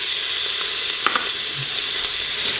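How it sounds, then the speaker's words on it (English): Onion sautéing in coconut oil in an Instant Pot, a steady broadband sizzle with a few brief stirring clicks, close and continuous throughout with no talking. "What I really want to do is saute this onion."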